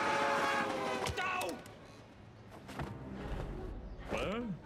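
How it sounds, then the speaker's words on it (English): Ghost train rumbling past in the LEGO Simpsons video game, a creaking rail clatter with a rising and falling whistle-like tone, moderately quiet beneath game voices and music. "Ah, a ghost train! And so little time to get out of the way."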